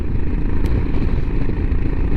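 A Royal Enfield Himalayan engine, fitted with a 36-tooth rear sprocket, runs loud and steady close by, a continuous low rumble with slight rises as it revs toward 4,000 rpm, no voices.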